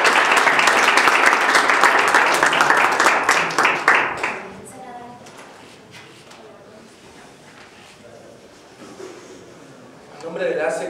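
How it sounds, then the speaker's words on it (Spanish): Audience applause at a Senate lecture event, loud sustained clapping for about four seconds that quickly fades into quiet room tone, with faint voices and a short burst of speech near the end. "Le pido un aplauso a todos para..."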